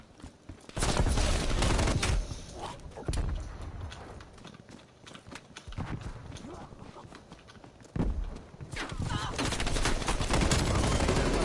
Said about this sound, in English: Alright, you can stop shooting.